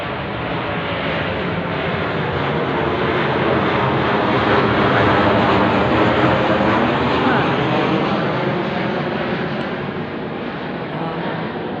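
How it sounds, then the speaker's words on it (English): A late-night patrol plane passing overhead, a loud continuous engine drone that swells slightly in the middle and holds steady throughout with no pauses. "That is a late night patrol plane over my head"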